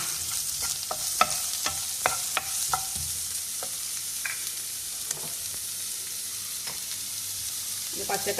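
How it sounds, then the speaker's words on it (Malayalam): Finely chopped onion sizzles in a pan for cheese dosa, a continuous close hiss with frequent sharp clicks and scrapes as a spatula stirs, and no voices. "ഇനി ആദ്യം തിരിക്ക് നമുക്ക് സവാള അരിഞ്ഞത് നല്ല പൊടിയായിട്ട് അരിഞ്ഞോളൂ ഇട്ടുകൊടുക്കാം"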